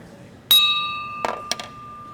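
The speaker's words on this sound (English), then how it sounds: "we're going to start this just like we do every meeting with the ringing of the bell." A meeting bell at a Rotary Club luncheon is struck once, ringing with a clear sustained tone, followed by two lighter strikes that add brief metallic clinks as the ring lingers.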